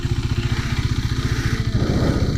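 A motorcycle engine runs close by with a steady, pulsing, throbbing rhythm, loud and alone.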